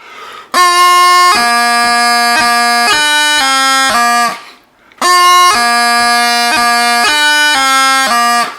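Bagpipe drones and chanter playing the first bar of the tune Song of the Glen, with crisp grace notes cutting each beat, stopping briefly, then repeating the same phrase; loud and close, no talking.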